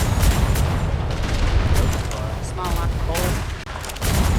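Ship cannons firing during a Royal Navy naval roleplay video game battle: heavy booming blasts and rumbling volleys fill the clip, with a voice speaking briefly over the gunfire.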